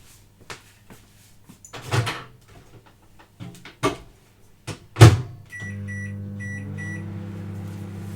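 A microwave oven heats body butter for massage bars; a few clicks and door or button knocks come first, then a steady, close electric hum with a thin high whine runs unbroken to the end.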